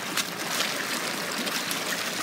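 Floodwater pours into a deep, overflowing pond as a steady, moderately loud rushing trickle with no break.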